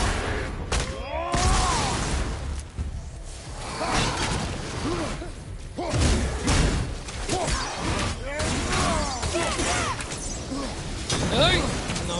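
Chaotic combat from God of War with exploding Draugr enemies: repeated booms, thuds, whooshes and crashes come in bursts over a dense game score, with swelling impacts around the middle and end.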